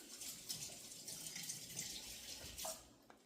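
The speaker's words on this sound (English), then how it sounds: "rinse off the pan" A pan rinsed under a running kitchen tap gives a steady broadband rush of water spattering off the metal. Brief splashes and a clink near the end ring out close by, with no voices.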